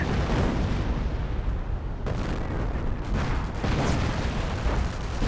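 A Wurfrahmen rocket and artillery barrage in the World War II strategy game Company of Heroes, a continuous rumbling roar of explosions and booms, dense and heavy throughout.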